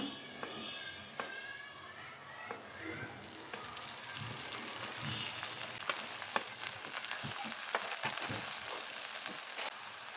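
Fresh green chickpea leaves added to a hot pan with oil and turmeric, giving a steady soft frying sizzle with scattered crackles and light stirring clatter throughout.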